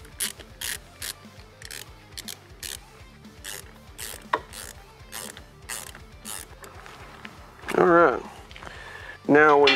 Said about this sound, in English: And then we'll just tighten these clamps down.